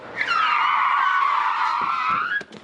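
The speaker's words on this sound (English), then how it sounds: "For our final event, parking brake assisted parallel parking." A car skids with a sustained, loud tire squeal during a parking-brake-assisted slide into a parallel parking space, the screech holding steady for over two seconds before cutting off, with no talk.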